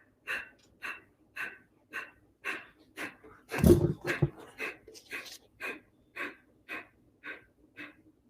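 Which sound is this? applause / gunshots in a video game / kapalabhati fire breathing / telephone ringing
kapalabhati fire breathing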